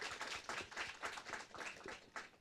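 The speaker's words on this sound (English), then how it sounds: "Let's give them a round of applause, everyone" A small audience at a local internet governance forum hub gives a round of applause: light, distinct clapping, faint and somewhat distant, continuing for a couple of seconds.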